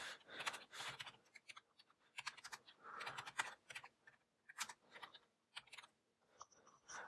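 Keys clatter on a computer keyboard while building a Shiny app in R, bursts of rapid clicks broken by short pauses, close and fairly quiet, with no talking.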